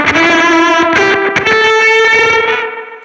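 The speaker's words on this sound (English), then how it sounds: "It's that super gated, gnarly, nasally fuzz sound." Guitar played through a Preamp Mark II pedal set to a heavily gated, nasal, gnarly fuzz distortion, a sustained buzzing note with a few sharp re-picked attacks, loud and alone, cutting off abruptly near the end.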